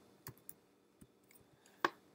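A few sharp computer mouse or key clicks on a desktop, sparse and close, with brief quiet gaps between them.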